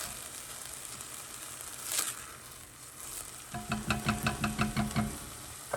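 A spoon works through two cups of raw rice in a cooking pot for Indian rice, a soft background hiss and then a run of quick rhythmic scraping strokes against the pot, close and clear with no voices.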